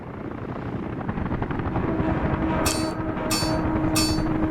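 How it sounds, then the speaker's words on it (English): Helicopters fly over a Soviet-style construction site in Workers & Resources: Soviet Republic, with a steady rotor thrum throughout and three short bright interface chimes near the end. "the helicopters are working on the concrete"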